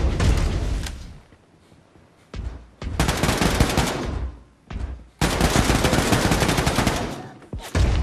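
Rapid automatic gunfire in the Wolfenstein video game, shots fired through a window, coming in several loud sustained bursts separated by short quieter gaps.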